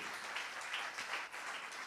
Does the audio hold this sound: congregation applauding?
yes